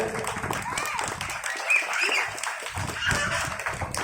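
An audience claps for an honoured student at a felicitation ceremony, a loud burst of applause mixed with voices and background chatter.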